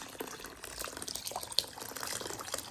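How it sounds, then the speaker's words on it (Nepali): Lukewarm water poured over home-grown local rice to soak it, a soft continuous trickle and splash at moderate distance with a faint clink partway through. "मनतातो पानी नै हाल्दिउँ।"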